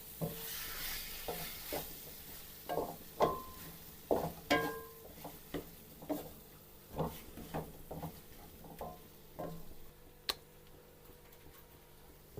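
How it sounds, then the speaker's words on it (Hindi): Ketchup and mayonnaise being stirred into cooked macaroni for chicken tikka macaroni, a series of close, soft squelching scrapes and spoon knocks in a steady irregular rhythm, with no talking. "मेयोनीज शामिल करेंगे इसमें, और इसको अब हम अच्छे तरीके से मिक्स कर लेंगे"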